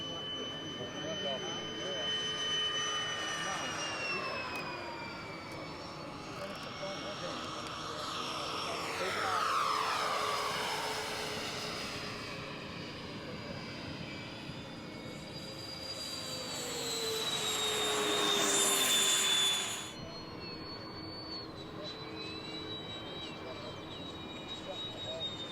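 A large HSD Boeing 747 electric ducted-fan RC jet model spools up and takes off, its turbine-like whine rising and sweeping in pitch and growing louder toward the end before cutting back; people talk faintly in the background.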